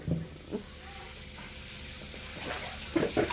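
Water runs and splashes steadily during an outdoor bath of a child, close by, with a few brief louder splashes and faint voices near the end.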